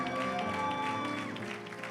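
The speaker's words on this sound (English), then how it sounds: "Let's give them a round of applause." Congregation applause at a church sermon service, a busy wash of clapping blended with music and low crowd sound, steady throughout.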